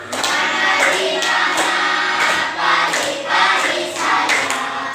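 A group of children clap their hands in a steady rhythm along to a song in a classroom, the sharp, repeated claps sounding close and lively over the singing.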